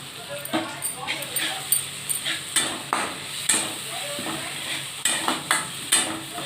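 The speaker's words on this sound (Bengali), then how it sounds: "আমি এখন টমেটোটার কুচিটা তুলে দিচ্ছি।" Chopped tomato frying in a pan for a koi fish curry: sizzling broken by regular clattering stir strokes, close, with a voice speaking over it.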